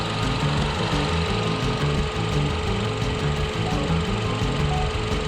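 With the hood open, a Hyundai Avante MD engine idles in a steady, rhythmic clatter that is close and constant, with no voices.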